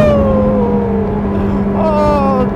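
A Kawasaki Ninja 1000SX motorcycle engine holds a loud, steady note close by, and a second rising tone swells briefly near the end.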